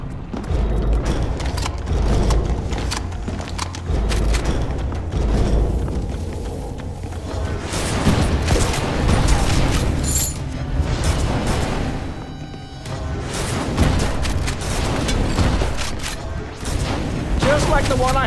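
Shotgun blasts in the shooter game Immortal Redneck, repeated heavy booming shots every second or two over roughly eighteen seconds, layered with game effects and someone talking over them.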